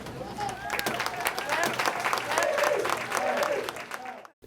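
A crowd claps along to a sung children's tune at a Market Basket rally, rhythmic hand claps under voices singing, close and lively before cutting off abruptly at the end.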